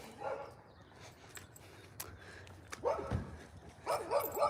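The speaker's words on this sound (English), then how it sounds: "With some other dogs on the street." Several dogs bark on a night street, short bursts near and farther off with quiet gaps between, a few yips and whimpers among them.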